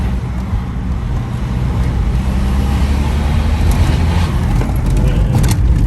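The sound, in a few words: BMW 120d stage 2 car accelerating hard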